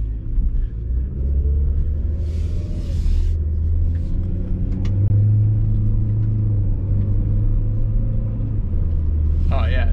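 A 2011 Saab 9-5 with fresh tires and new rear brakes is driven around the block, its steady low engine and road rumble running close and continuous throughout, with a brief bright chime and faint talk rising above it.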